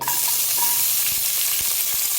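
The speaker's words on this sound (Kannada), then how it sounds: "ಇದಕ್ಕೆ ಕಟ್ ಮಾಡಿರುವಂಥ 1 ಈರುಳ್ಳಿನ ಹಾಕ್ಕೊಳ್ತಾ ಇದ್ದೀನಿ" Chopped onion sizzles loudly in hot oil in a cooker, a dense, even crackle that keeps going for about two seconds with faint spatter and no voices.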